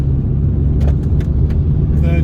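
A Mini Cooper S GTT220 pulls hard in third gear, its engine a steady low drone heard from inside the cabin, with someone talking over it.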